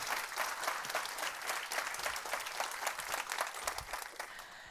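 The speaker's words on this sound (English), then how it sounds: "Give a round of applause to Tatiana." Audience applause at a Nordic female investor meetup, with a steady roll of many hands clapping close by, sustained throughout and easing slightly toward the end.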